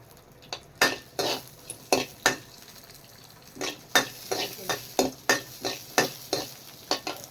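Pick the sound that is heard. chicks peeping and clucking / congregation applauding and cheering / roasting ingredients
roasting ingredients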